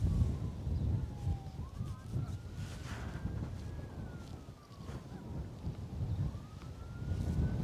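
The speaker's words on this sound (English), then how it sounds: "the sound of police cars, as you might hear in the background there" Police car sirens wailing faintly far off near Felton Common by Bristol Airport, a thin rising and falling tone drifting over heavy wind buffeting against the microphone.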